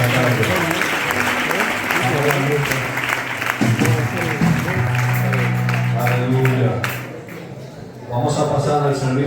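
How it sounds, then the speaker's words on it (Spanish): A church congregation in Madrid applauding the Lord, loud sustained clapping from a full room that fades near the end, with voices singing or calling out over it. "Le podemos dar un fuerte aplauso al Señor en esta tarde."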